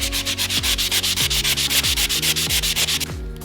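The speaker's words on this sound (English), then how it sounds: "So, just gonna sand this down to try and get it even." Steady back-and-forth strokes of sandpaper rasp over a spackled nail hole in painted drywall, about six quick rhythmic passes per second, close and scratchy, with no talking.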